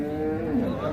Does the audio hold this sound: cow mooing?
yes